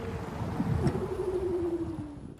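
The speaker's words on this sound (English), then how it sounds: "This is a 1960s Porsche 911, which has been entirely converted to be electric by Martijn van Dijk and his company Voiture Extravert." An electric-converted 1960s Porsche 911 rolls along quietly, giving a faint, smooth whine that slides gradually downward over a soft hum of road noise, with no engine roar.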